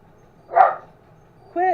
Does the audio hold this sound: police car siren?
no